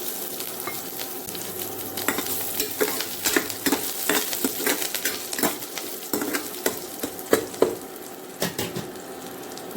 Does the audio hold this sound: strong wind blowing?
no